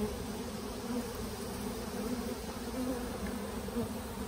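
Honeybees in a weak hive that holds a few beetles make a dense, steady buzzing that carries on without a break and sits close by.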